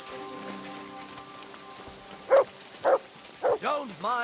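Rain falls in the medieval world of Kingdom Come Deliverance II, a soft steady patter running beneath a character's voice, which breaks in with short bursts of speech in the second half.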